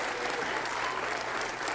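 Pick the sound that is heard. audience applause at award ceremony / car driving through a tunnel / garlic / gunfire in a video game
audience applause at award ceremony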